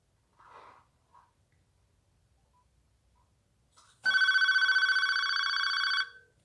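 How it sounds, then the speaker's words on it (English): A Panasonic KX-TG4771C cordless phone rings without its power supply, giving a steady electronic trill that runs about two seconds after a few faint soft noises, close and fairly loud with no talking. "But without the power supply, it has kind of a unique ring to it."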